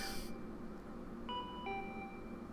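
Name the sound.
doorbell ringing in the video game Danganronpa V3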